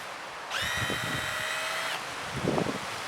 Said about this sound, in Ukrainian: Беремо шурупанчик. Знімаємо.